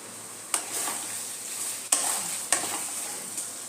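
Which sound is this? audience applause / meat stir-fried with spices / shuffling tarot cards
meat stir-fried with spices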